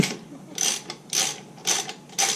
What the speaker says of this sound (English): You need a torque wrench? Yeah, I'm gonna torque it down for sure.